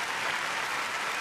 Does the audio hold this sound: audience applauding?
yes